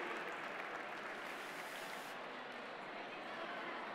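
Applause at an award ceremony for a guest, a broad steady wash of hands from an audience lasting throughout, fairly distant and even.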